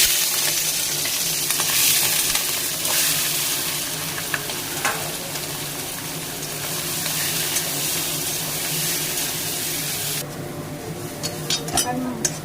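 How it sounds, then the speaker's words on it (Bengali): Prawns fry in a pan with a steady, close, crackling sizzle that runs throughout, easing and thinning toward the end with a few louder spits. "আমি এবার চিংড়ি মাছটা ভেজে নিচ্ছি।"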